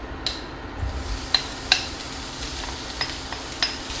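Chopped onion and bell pepper sizzle steadily in about two tablespoons of hot olive oil in a pan, with a few sharp utensil taps and stirring clicks over the constant close frying hiss.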